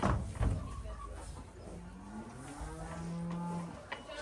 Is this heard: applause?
no